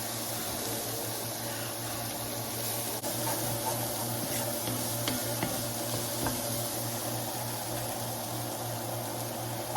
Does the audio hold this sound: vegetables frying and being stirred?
yes